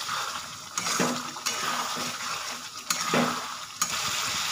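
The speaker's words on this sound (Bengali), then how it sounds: "এবার ভালো করে মশলাটাকে কষে নেব।" A spice paste of coriander powder, Kashmiri red chilli powder and black pepper fries in a pan for chicken curry with potato, giving a steady close sizzle broken by occasional scrapes of a spoon as it is stirred.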